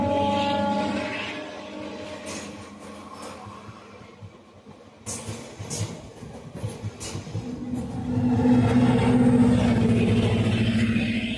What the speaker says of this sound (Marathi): ही समोर परळी वैजनाथ सांगली डेमो एक्सप्रेस ही आपल्याला क्रॉस करत आहे